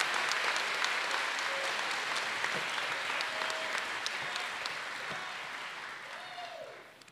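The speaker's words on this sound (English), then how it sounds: "Ladies and gentlemen, let's give Scott another round of applause." Sustained audience applause at a shipbuilding apprentice school graduation ceremony, a steady dense wash of many hands clapping throughout that fades slightly at the end.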